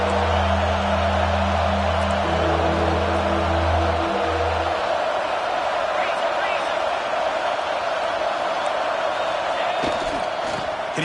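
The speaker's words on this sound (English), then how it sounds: "And here comes the noise. This crowd is trying to inspire this defense to make a big red zone stop." In a college football video game, a stadium crowd roars steadily throughout, a broad wall of cheering noise that swells under a commentator's voice, with sustained low tones during the first half.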